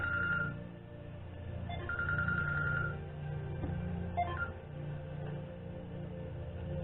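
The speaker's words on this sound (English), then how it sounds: "And look, my phone's ringing." A phone rings during a tarot reading, its electronic tone sounding in short bursts over a steady low hum, moderately loud and close with no one talking.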